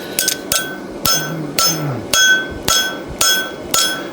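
Hammer blows on a cold forged horseshoe being flattened, about eight sharp ringing metallic strikes spaced roughly half a second apart, close and alone.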